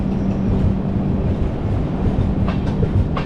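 The Repalle Express passenger train runs smoothly, heard as a loud, steady rumble and roll from inside the carriage with faint rhythmic wheel clacks and no talk.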